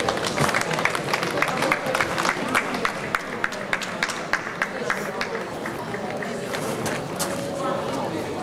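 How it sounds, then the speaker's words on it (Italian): Audience applause at an outdoor May Day gathering welcoming a performer, a continuous spread of clapping hands with voices murmuring underneath, moderately distant. "Accogliamo Mirko Raiola con un grande applauso."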